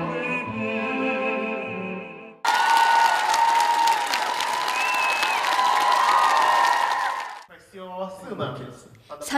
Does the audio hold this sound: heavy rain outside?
no